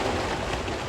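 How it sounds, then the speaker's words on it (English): Storm rain pounds steadily on a greenhouse roof, a dense constant hiss and patter that fills the space with no pauses. "I'm right in the middle of a storm right now for some reason, so I hope you don't hear those raining hitting the greenhouse"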